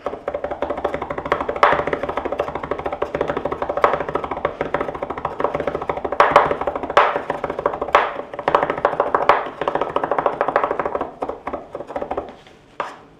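A knife finely minces three big garlic cloves on a board, a rapid run of light, close tapping chops that continues steadily, pausing briefly, then trailing off into a few last taps.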